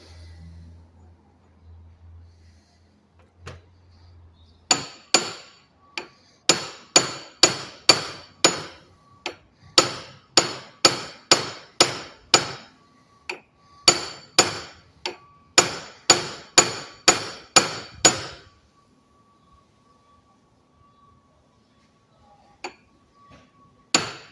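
Sharp metallic hammer blows on a 1997 Jeep Grand Cherokee front driveshaft ring out in steady runs of strikes, loud and close, with short pauses between the series, during CV joint repair.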